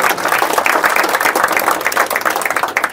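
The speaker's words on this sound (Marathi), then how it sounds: "आपण टाळ्या वाजवल्या त्यासाठी." An audience at a public speech claps together in dense, sustained applause, loud and close, with no talk over it.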